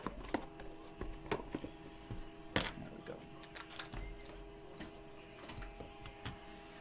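A printer runs during a sports card box break, with irregular clicks and mechanical clatter over a faint steady hum.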